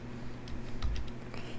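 Typing on a computer keyboard: a short run of soft, scattered key clicks over a low steady room hum, with no voices.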